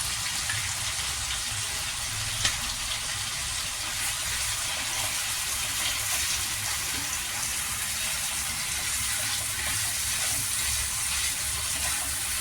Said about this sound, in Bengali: এই মশলাটা আমি দিয়ে ভালো করে এর সাথে কষিয়ে নেবো।